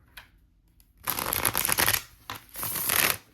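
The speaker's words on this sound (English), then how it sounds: "I'm gonna shuffle again." Tarot cards shuffled by hand, a faint flick at the start followed by two close, crisp riffling bursts separated by a short pause.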